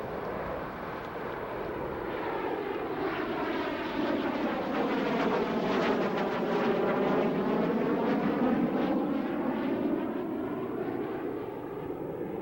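An F-117 Stealth Fighter jet makes a slow speed pass at a 1992 airshow at Grissom AFB, a loud sustained engine roar that swells and sweeps past with a rising and falling whine.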